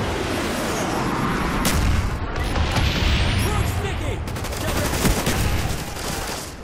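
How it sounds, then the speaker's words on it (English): Napalm strike explosions in Call of Duty: Black Ops roar as a dense, continuous barrage of blasts and fire, loud and sustained with crackling bursts throughout. "Friendly napalm strike on the way."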